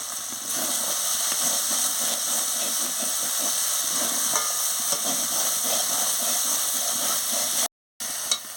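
Spice paste frying hard with salt in a pan for soybean and papaya curry, a steady loud hissing sizzle lasting the whole stretch, cut by one brief silent gap near the end.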